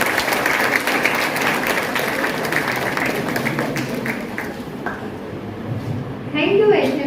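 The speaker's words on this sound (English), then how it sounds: "Parth Patel with a big round of applause." A school audience gives a steady round of applause to welcome a guest named Parth Patel, a continuous dense clatter of clapping throughout, with some voices mixed in near the end.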